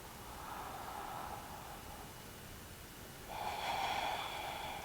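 Deep yoga breathing, two slow, airy inhales drawn in through the nose, soft and close in a quiet room, the second one louder and longer than the first.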